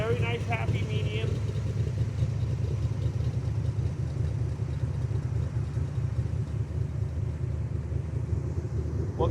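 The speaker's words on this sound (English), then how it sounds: "Exhaust sounds awesome. It's not too loud, not too quiet." Factory Five MK4 Cobra replica with a fuel-injected 427 V8 and 5-speed, its exhaust giving a steady low idling burble, moderately loud and unbroken throughout.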